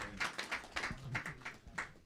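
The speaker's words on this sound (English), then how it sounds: "Round of applause for a lovely class." A small audience at an ISKCON Coventry Sunday program claps after a class, giving faint, sparse applause of about eight distinct claps in an uneven rhythm.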